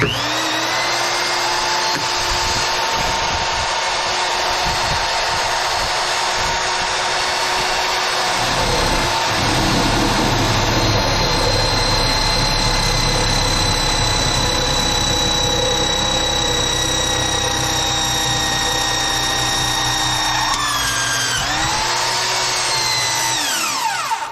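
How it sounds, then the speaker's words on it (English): A power drill whines steadily for over twenty seconds at close range, then its pitch drops as the motor winds down. "we're gonna go ahead and drill this hole"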